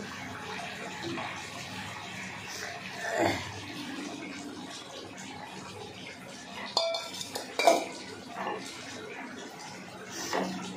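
Fried prawns go into a pan of vegetable curry with pointed gourd, potato and bori: soft wet stirring and scraping with a few sharp utensil clinks against the pan near the end, close and fairly quiet.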